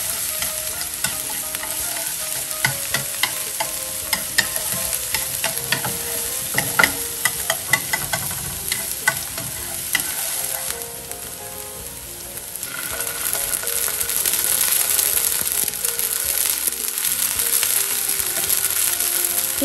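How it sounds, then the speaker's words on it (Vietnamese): Minced shallots and garlic fry in hot oil in a pan, a close continuous sizzle broken by repeated scraping and stirring strokes, the sizzle swelling louder toward the end. "Khi dầu nóng thì cho hành tỏi đã băm nhuyễn vào phi cho vàng."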